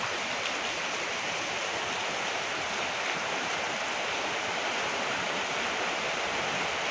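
Sea surge along the coast at Chellanam and Kannamaly, heard as a steady, faint wash of broadband surf noise, continuous and unbroken, with no voices.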